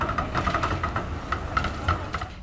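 A tram running on its rails gives a steady, close rumble with scattered metallic rattles and clacks throughout, and no one speaks.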